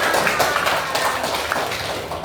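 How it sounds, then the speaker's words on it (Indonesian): A classroom of pupils claps their hands together in a dense, rapid burst of applause that stays loud and close for a couple of seconds, with no speech over it. "Oke, tepuk tangan."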